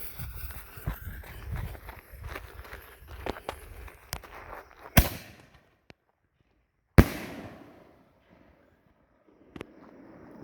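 A Miracle Fireworks Ultimate Force can shell launches from its mortar tube with a sharp, loud thump, followed by crackling bursts and scattered pops from other fireworks, then quiet gaps broken by a second sharp report near the end.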